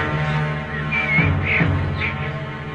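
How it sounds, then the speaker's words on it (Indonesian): A crow-like bird caws a few times, harsh calls rising over a dense background of droning music or ambience. "Itu pasti burung mata-mata"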